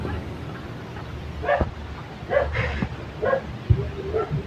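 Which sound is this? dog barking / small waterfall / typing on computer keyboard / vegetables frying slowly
dog barking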